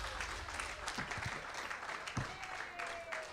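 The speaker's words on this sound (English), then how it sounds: "how about a round of applause for everybody?" Clapping from an audience at a live event, moderately quiet and continuous, with a few thumps and some voices mixed in beneath it.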